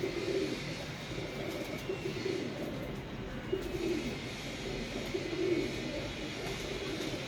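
A flock of pigeons coos in repeated soft, throaty phrases around a few seconds apart, close by over a low steady background hum, with no talking.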